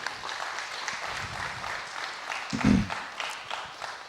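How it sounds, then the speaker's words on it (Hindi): Audience applause welcoming a guest speaker at a Hindi-language talk show event, a steady broadband wash of clapping throughout, moderately loud, with a brief low thump near the middle. "तालियों से स्वागत करेंगे"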